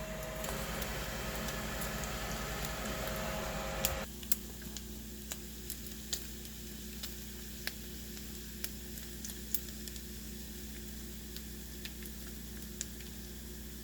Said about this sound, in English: I'm gonna throw a couple burgers in here since I got my bacon bits already done